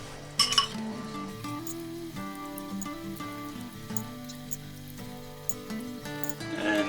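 A fork stirring egg into a pot of Romanian chicken soup, with light metallic clinks and taps against the pot, faint and close, over a steady tonal background.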